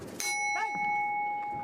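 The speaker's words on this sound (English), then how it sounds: "There goes the bell." A boxing round bell rings once at an IBA Champions' Night bout in Ufa, a bright metallic strike that hangs in a long, steady ringing tone over low arena crowd noise.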